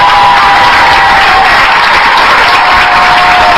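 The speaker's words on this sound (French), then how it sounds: "Des applaudissements en guise de motivation pour certaines." Loud, dense applause from a crowd of women at a coaching event, continuous and unbroken across the whole stretch.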